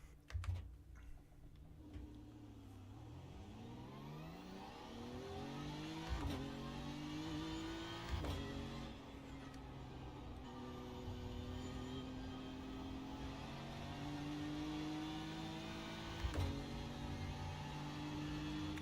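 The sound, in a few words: GT race car engine in video game iRacing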